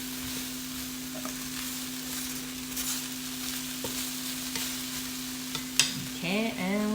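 Plant-based whole-food lunch frying in a pan on lowered heat, with steady soft sizzle and occasional scraping stir strokes, a constant hum underneath and a brief clatter near the end.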